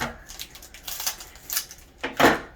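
Scissors or a blade slicing open plastic toy packaging for a Disney Doorables unboxing, heard as a few short scratchy cuts and crinkles close by, ending with a louder rip; a voice speaks faintly in the background.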